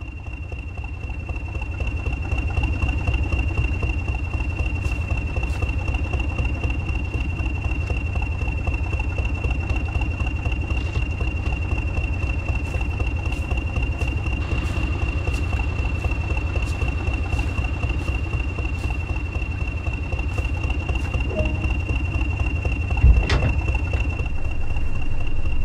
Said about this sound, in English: Welcome to this Class 20 diesel electric locomotive in rail freight red stripe livery.